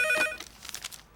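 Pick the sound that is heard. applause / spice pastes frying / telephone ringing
telephone ringing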